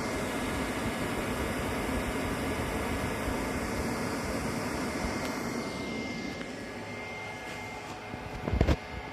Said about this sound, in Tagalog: Narinig nyo ba yung yung sound ng fan? Medyo malakas, di ba?